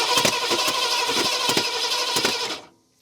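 A 1970 V8 Mustang engine cranks loudly and close in a harsh, pulsing churn with a rapid uneven rhythm that stops abruptly near the end, leaving silence.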